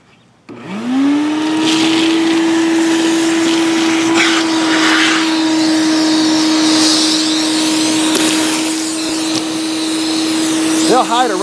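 A shop vac roars steadily and loudly as it sucks squash bugs off an infested garden plant, its motor tone holding constant throughout, with brief suction rattles and a rising whine near the end.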